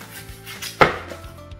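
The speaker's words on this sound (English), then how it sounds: "I'm simply going to slice it into chunks as well." A kitchen knife slices an onion into chunks on a board: one sharp, loud chop in the middle, with softer taps before and after over a quiet room.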